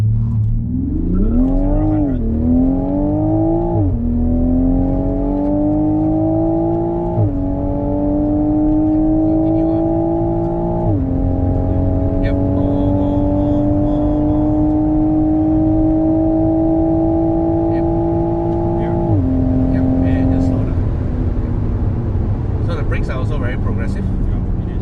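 A Toyota GR Supra accelerates hard down an airstrip, its engine note climbing through the gears in rising sweeps with brief dips at each shift, loud and close. No one speaks over it.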